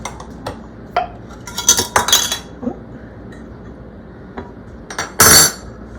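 Spoon clinking and scraping inside a glass jar of home-canned sour cream as it is stirred, with scattered sharp taps and a louder burst of scraping near the end.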